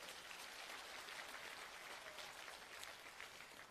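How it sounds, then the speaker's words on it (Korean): An audience at a legislator's activity report meeting applauds, a dense, steady patter of clapping sustained for several seconds at moderate distance with no speech over it. "박수 한번 쳐주십시오."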